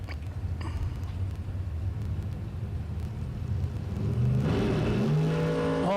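A drag racing car launches down the strip at a bracket racing event, heard as a distant rising whir that swells louder near the end, with no talking.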